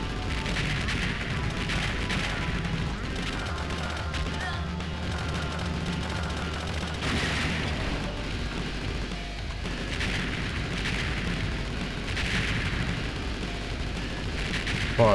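Continuous gunfire and explosive bursts from the arcade game Shock Troopers rumble under the din, loud and dense with repeated surges throughout.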